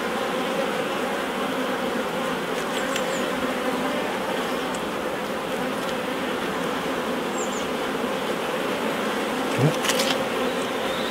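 Steady, dense buzzing of many honeybees close by at an open hive, a continuous droning hum with occasional louder passes of individual bees.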